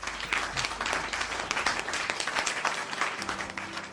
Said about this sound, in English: So a round of applause for my guests.